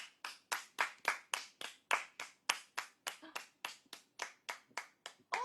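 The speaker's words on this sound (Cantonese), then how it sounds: "有冇得拍手？" Hand clapping with about twenty sharp, evenly spaced claps at a steady brisk rhythm, close and fairly loud, with no talk over them.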